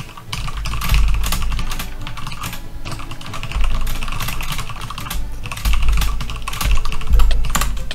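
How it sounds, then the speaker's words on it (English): Fast, steady typing on a computer keyboard, close and loud, with clustered clacks running throughout and no talk over it. "I was typing to Vincent when you did that."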